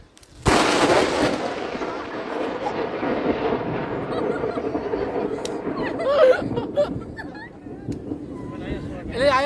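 A loud sharp bang bursts out, followed by crackling and popping like firecrackers going off nearby, with voices talking and calling over it.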